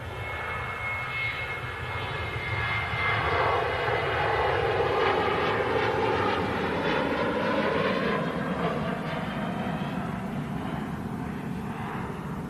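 An airliner departing for Funchal, Madeira, roars along the runway on its takeoff roll. The loud, broad jet rumble swells and then holds steady at a distance.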